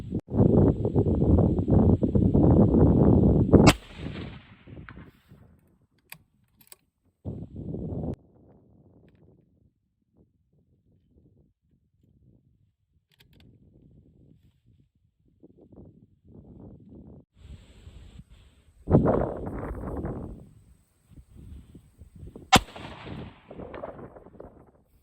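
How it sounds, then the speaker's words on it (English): Two sharp .223 Rem rifle shots firing Sierra 69 gr MatchKing bullets at a 300-yard target, outdoors, each a loud crack with a short echoing tail, separated by long quiet stretches broken by wind noise and rustling. "that's 5 rounds at 300 yards."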